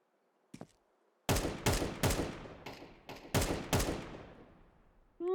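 Gunfire in the Overwatch video game: a quick single shot, then a rapid sequence of about seven loud, sharp shots in uneven rhythm, each with a short decaying tail.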